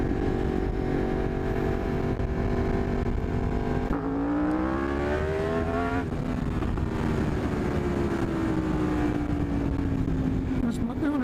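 Motorbike engine fitted with an added accelerator pump, revving hard while riding, its pitch climbing and falling through several sweeps over steady road and wind noise.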